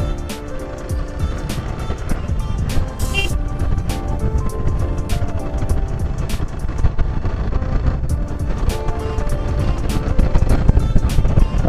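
A Hero XPulse 200 adventure motorcycle rides off-road over rough ground, its engine droning steadily and loudly throughout with wind buffeting and occasional clatters, and no talking.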